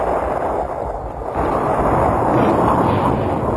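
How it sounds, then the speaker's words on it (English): Israeli artillery shelling Syrian strongpoints during the 1967 Six-Day War, a loud, continuous rumble of heavy fire and blasts that swells slightly after the first second and holds steady throughout. "From the rear, Israeli artillery shelled the most stubborn Syrian strongpoints with pinpoint"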